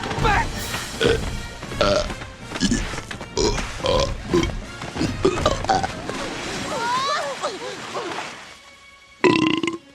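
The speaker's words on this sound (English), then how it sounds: "he tumbles down the hill and burps after every tumble" A cartoon pig from the Chicken Little film belches again and again as it tumbles down a hill, with loud close burps coming in an uneven rhythm among film voices and effects, then one final burp after a short pause.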